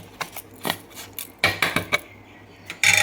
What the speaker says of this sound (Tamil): அப்படியே கிண்டி பூரணத்தை ரெடி பண்ணிக்குவோம்